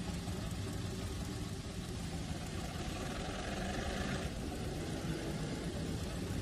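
Diesel locomotive engine in Trainz 2019, a C&O train near Hinton, running with a steady low rumbling drone throughout, continuous and fairly even, with no voices.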